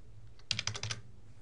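Fingers type on a computer keyboard, a quick run of about six crisp keystrokes close by over a quiet room, with nobody speaking.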